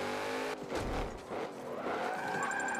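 A Volvo XC90 drifts in the Forza racing game, its tyres skidding and squealing in a loud, continuous smear over the droning engine for a few seconds.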